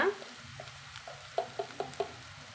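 Onions stirred and fried in a pan: a soft, low sizzle close by, broken by a few light scraping strokes and clicks of a spoon, with no one talking.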